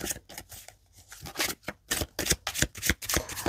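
Tarot cards being shuffled and spread out at close range: a steady series of crisp riffling bursts and soft slaps in quick irregular rhythm, loud and alone without talk.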